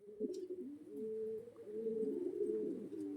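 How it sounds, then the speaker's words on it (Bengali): Kalanka breed pigeons coo in low, throaty rolling phrases, several overlapping calls close by and steady with no talking. "অরিজিনাল পায়রা একদম"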